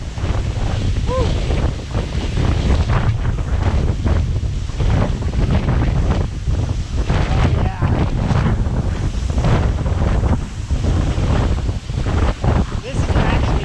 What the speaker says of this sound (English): Funny how much wind is created just by falling water.